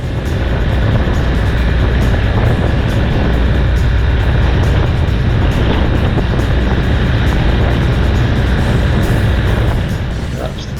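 Loud, steady engine and wind roar from a BMW GS motorcycle passing another GS on a country road, continuous throughout with a talking voice over it.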